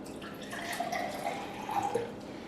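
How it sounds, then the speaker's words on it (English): Distilled water trickles quietly into a drinking glass, a soft continuous pour with light dripping splashes, close and low in level, no voices. "let me fill them with 3 different types of water"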